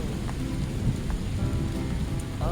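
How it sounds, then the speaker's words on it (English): Steady rain falling outdoors in the hinterland at dusk, a dense continuous patter with a low rumbling undertone like distant thunder, fairly close and constant with no voices. "Starting to rain."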